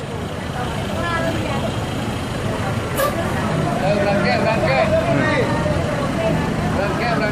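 An ANS intercity bus rolls in to arrive in Jakarta, a continuous mid-range engine and road roar with a brief sharp hiss partway through, while voices talk over it.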